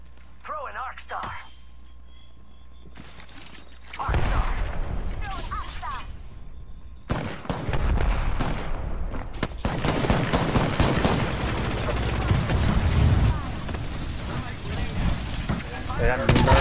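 Gunfire and a thermite grenade in a video game: sparse shots and mechanical clicks give way to dense, continuous bursts of automatic fire and crackling fire, loud and close, with people talking over it.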